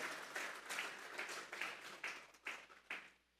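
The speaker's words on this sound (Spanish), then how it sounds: "Vamos a darle una ofrenda de palmas a Dios en esta hora." A church congregation at a Sunday service claps together as an offering of praise, a quiet, steady rhythmic clapping in regular beats that grows slightly louder before stopping abruptly.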